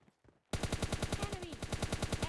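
Rapid automatic gunfire from an MK14 rifle in the mobile shooter PUBG Mobile Lite, a long unbroken burst of close, loud, evenly spaced shots starting abruptly after a brief quiet moment.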